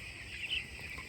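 Twelve-day-old broiler chicks on a poultry farm, a faint high chirp or two over a low steady background hum.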